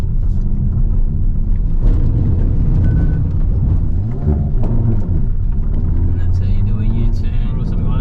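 Hyundai i30 N driving along a gravel road, its low engine rumble and steady tyre roar on loose stones filling the cabin continuously, loud and close throughout.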